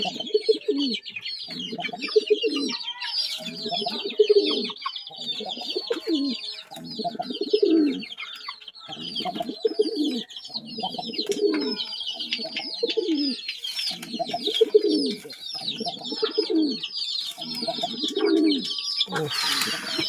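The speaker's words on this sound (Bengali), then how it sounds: "কবুতরের সৌন্দর্যটা দেখেন, ওর ডাকটা অনেক সুন্দর," Pigeons coo in a steady series of soft, throaty, rolling calls, close and clear, repeating every second or so, while small birds chirp busily in the background.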